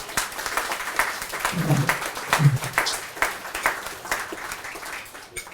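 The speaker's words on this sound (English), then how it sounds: "So if you give my parents a round of applause, please." An audience applauds the speaker's parents at a Norfolk County Sheriff's Office event, continuous crowd clapping with a few louder close claps, and a brief murmur of voices partway through.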